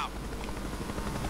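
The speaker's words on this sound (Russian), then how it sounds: "Вертолет еще полетел." A helicopter's rotor and engine drone steadily through a brief moment of Fast & Furious 6 gameplay, loud and continuous.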